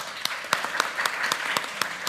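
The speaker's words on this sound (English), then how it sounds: "I think they deserve another round of applause." An audience at a conference claps steadily for speakers, with individual sharper claps standing out from a continuous wash of applause, fairly close and lively.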